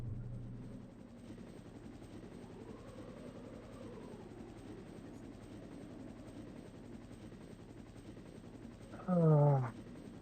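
Steady helicopter rotor drone inside the Resident Evil video game, fairly faint and continuous throughout with no talk, ending in a short loud burst of another game sound.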